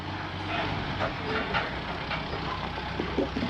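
A tractor engine runs with a steady, low rumbling drone close by, continuous throughout with no break.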